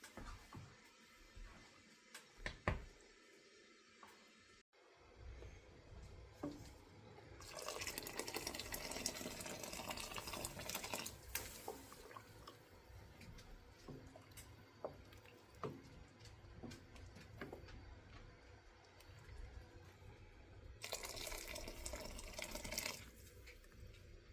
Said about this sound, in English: going to boil some water in the kettle and add it to this.